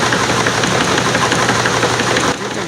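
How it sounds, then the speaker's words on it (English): An old grain seed cleaning machine, some 80 or 90 years old, runs steadily while cleaning rye, giving a loud, continuous mechanical clatter and rumble with rapid knocking that drops off slightly near the end. "So this machine must be 80 or 90 years old or so, and it's still running strong."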